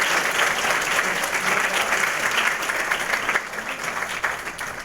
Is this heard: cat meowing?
no